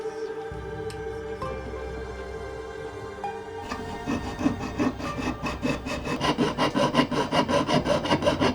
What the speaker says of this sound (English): I'm going to saw the edges and the heart on the detail